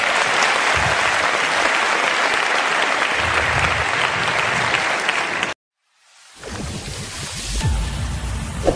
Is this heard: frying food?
no